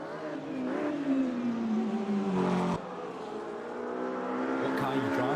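GT3 race car engines in a racing video game, several cars revving and whining with rising and falling pitch through the whole stretch and a brief dip near the middle, while people talk over them.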